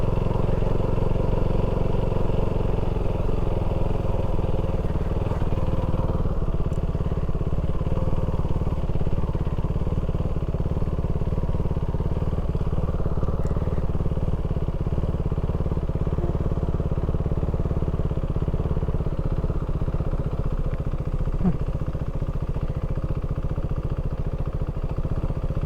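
A motorcycle engine runs steadily throughout, a low continuous mid-pitched drone with faint clatter, heard from close by in a wet setting with no talking.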